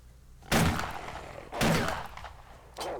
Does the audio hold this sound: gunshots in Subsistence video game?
yes